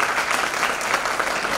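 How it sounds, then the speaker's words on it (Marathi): An audience claps enthusiastically at a college event, a dense, steady burst of many hands applauding together. "सगळ्यांनी जोरदार टाळ्या"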